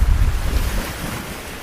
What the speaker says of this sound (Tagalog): So, tuara ang dagat.